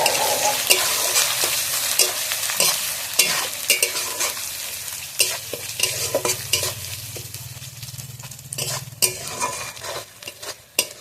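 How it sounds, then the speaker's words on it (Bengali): Spice masala with salt sautéing in a pan for a Katla fish head muri ghonto, with a steady sizzle broken by repeated scraping strokes of a spatula stirring close by. "আর দিয়ে দেবো নুন, দিয়ে মশলাটা আমি ভালোভাবে কষিয়ে নেব।"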